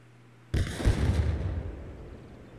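A rocket-propelled grenade detonates in the Arma Reforger video game: one sudden, loud, booming blast that rolls out into a long rumbling decay over about two seconds, with no one talking.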